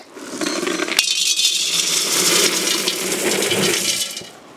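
Small pieces of metal poured into a container for a homemade furnace built from a cut gas cylinder, a loud continuous rattling clatter of bits tumbling in for about four seconds after a sharp first impact.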